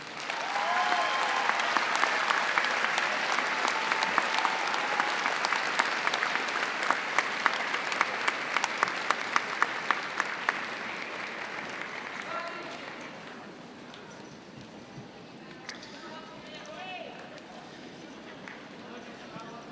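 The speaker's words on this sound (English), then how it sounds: "If you'll take just a minute to applaud the people that's here to support you." At a Dobyns-Bennett High School graduation ceremony indoors, the audience breaks into loud, dense applause that holds strong for about ten seconds, then thins out and fades to scattered claps.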